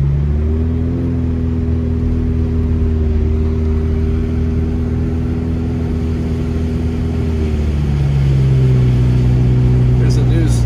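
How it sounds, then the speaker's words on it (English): A news truck drives past on a snowy road during a heavy snowstorm in Big Bear, its steady engine hum and tire noise holding close and loud, then shifting lower as it passes near the end. "There's a news truck"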